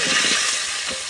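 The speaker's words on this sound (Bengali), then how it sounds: "তেল দিয়ে দিয়েছি, এবার আমি 5 ফোড়ন দেবো।" Five-spice tempering hitting hot oil in a pan for Bengali khichuri, a bright steady sizzle with a few soft stirring clicks underneath.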